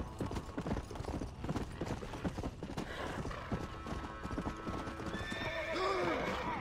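Horse in the Red Dead Redemption Undead Nightmare video game clip-clopping at a gallop with steady hoofbeats, ending in a loud, close whinny over a busy game soundscape.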